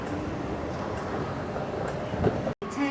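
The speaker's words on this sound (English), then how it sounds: "it looks like the train's arriving now. I can hear it." A Hong Kong metro train pulls into a station, a steady rumbling roar of rail noise filling the platform, swelling slightly near the end with a brief dropout.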